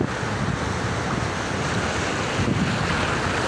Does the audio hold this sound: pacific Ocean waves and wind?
yes